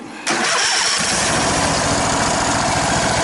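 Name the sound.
lawn mower engine starting after carburetor cleaning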